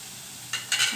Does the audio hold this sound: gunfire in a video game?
no